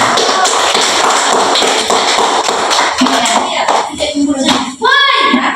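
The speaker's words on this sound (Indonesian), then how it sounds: "Ya, tepuk tangan dulu kita semua." Schoolchildren in a classroom clapping their hands together, a dense, busy patter that breaks up near the end, followed by a brief voice and some shuffling.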